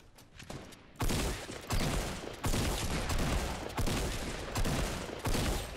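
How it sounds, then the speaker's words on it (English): Bursts of gunfire from Fortnite Battle Royale, about six loud, close volleys of rapid shots in a steady rhythm with brief gaps between them and no talking. "Damn, missed a lot of shots there"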